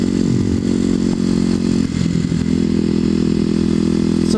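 A Kawasaki KLX250sf motorcycle rides through an urban industrial area, its engine droning steadily and loudly at a constant pitch with a brief dip and clatter midway, wind rushing throughout.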